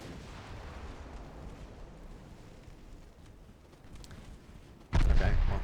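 Big warship guns fire in the naval combat game Ultimate Admiral Dreadnoughts, France 1890 campaign: a steady low rumble runs for several seconds before a single loud, close boom erupts near the end and lingers.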